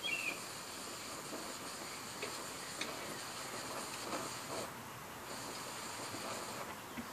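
A Prymus Turystyczny micro white gas stove, a copy of the Optimus 8R, burns with a loud, steady roaring hiss that holds constant throughout.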